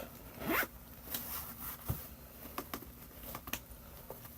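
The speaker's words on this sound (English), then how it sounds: "and it's supposed to zip right up." A zipper runs along an Erin Condren planner case as it closes, with a longer pull early on and then several short, quick zips and ticks. The sound is close and moderately loud, with no talking.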